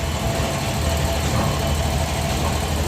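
A motor pump running steadily during a repair, its engine hum dense and continuous at close range with a low rumbling drone and slight knocking texture, no voices over it.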